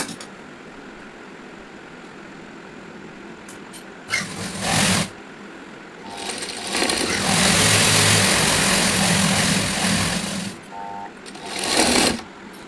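A sewing machine stitching a short nighty runs in several bursts: a short one, a longer steady whir, then a final quick run, with quiet pauses and a few faint clicks between.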